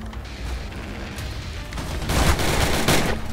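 Gunfire in the zombie shooter game Zombie Stories, a steady fusillade of rapid shots that grows louder and denser toward the end, with sharp bursts overlapping.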